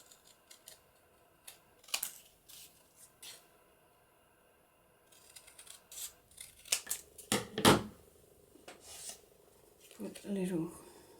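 Scissors trim a paper embellishment with magnets in close, quiet crafting work, soft snipping and rasping cuts coming in scattered short bursts with pauses between them.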